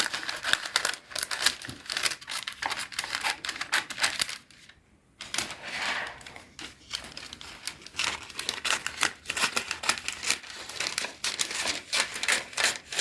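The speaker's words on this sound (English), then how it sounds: "Now what you do is cut around as closely as possible to the edges." A knife or cutter trims around the edges of a low-carb pizza base, giving a run of close, rapid scraping and crinkling cuts that pause briefly midway and then resume, with no talking.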